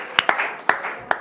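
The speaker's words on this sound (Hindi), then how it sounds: "टाइम है तो आप लोग तालियां बजाएं ना टाइम पे।" Scattered sharp hand claps, about four or five separate slaps, from a studio audience at a live TV morning show, close and crisp over a faint room hum.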